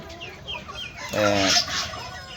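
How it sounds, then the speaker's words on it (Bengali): Silkie chickens on a rooftop garden at midday give a few soft clucks, then one louder, drawn-out call close by, with faint chatter from the flock in the background. "দুপুরবেলা চলে আসলাম এই সিল্কি মুরগিগুলোকে"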